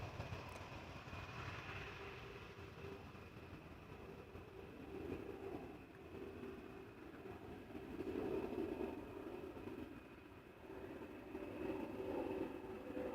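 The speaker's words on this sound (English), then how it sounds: "we're hearing an Embraer 190 going to Trondheim" An Embraer 190 airliner flies over near Amsterdam Schiphol Airport, a steady broad jet roar that swells and fades across the clip, with a constant engine whine above it and no voices.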